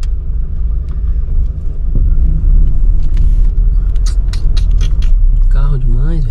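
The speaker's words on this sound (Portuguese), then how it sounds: "Carro demais" Heavy road traffic near the village of Sintra, a dense continuous rumble of many cars passing close by, with creaks and clatter, while people talk over it.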